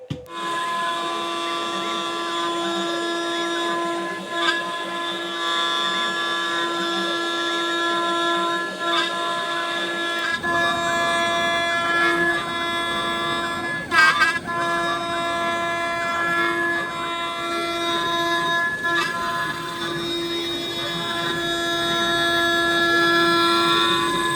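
A Next Wave Shark HD510 CNC machine cuts a skull gift box workpiece with a steady, continuous whine and tonal hum that grows into a louder, rougher grinding partway through. No voices are heard.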